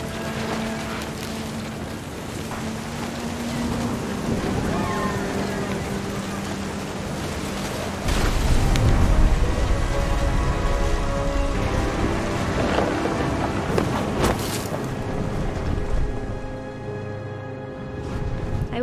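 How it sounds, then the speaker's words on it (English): A thunderstorm in the video game What Remains of Edith Finch, with rain hissing steadily and thunder rumbling, growing heavier and louder partway through, under music and faint voice-like sounds. "The thunder sounded much too close and full of angry power"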